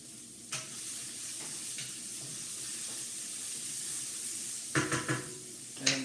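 Celery sizzles steadily in oil in a pan on a home stove while a simple dinner cooks, a soft continuous crackle broken by a few louder clatters and stirring knocks near the end.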